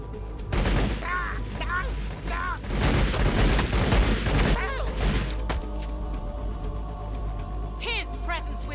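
Gunfire in the video game Warhammer 40,000: Battlesector, heavy bursts of shots and booms clustered early, fading into a softer battle hum with occasional effects while voices talk.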